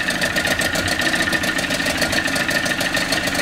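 A 1996 Evinrude 28 Special long-shaft outboard idling in a test tank, a steady, even pulsing run with no talk.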